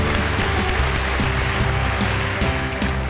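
Dense, loud studio audience applause on a Thai television talent show, a continuous wash of clapping filling the space without any voices.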